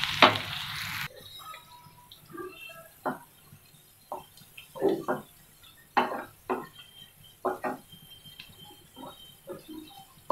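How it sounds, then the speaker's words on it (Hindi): Onions fry in hot oil for a masala okra dish, giving a soft, low sizzle broken by irregular sharp crackles and spatula taps scattered through the stretch. "चलो प्याज फ्राई करेंगे"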